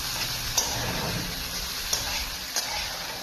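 Onions fry in a hot pan with a steady, broad sizzle, broken by a few faint ticks and clicks of stirring.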